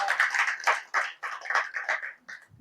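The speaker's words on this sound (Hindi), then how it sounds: "तो उनके लिए एक बार जोरदार तालियां हो जाएं।" An audience at a Hindi poetry and ghazal recital claps in a short burst of uneven, close handclaps that fade out after a couple of seconds, with no one speaking.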